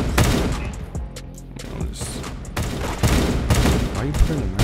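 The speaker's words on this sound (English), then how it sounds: "I'm about to go to all the gunshots I hear." Rapid gunfire crackles in the Roblox game Da Hood Aim Trainer, dense overlapping bursts of shots and booms, loud and near, with a voice talking over parts of it.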